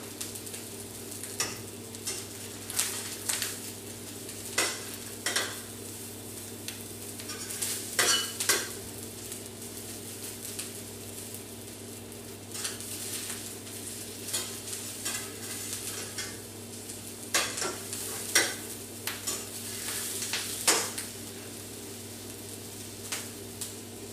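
A veggie omelette cooks in a pan with a soft, constant low sizzle, broken by frequent sharp clicks and scrapes of a utensil against the pan, some close and fairly loud.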